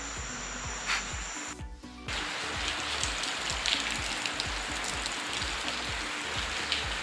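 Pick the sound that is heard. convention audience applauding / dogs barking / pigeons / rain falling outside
rain falling outside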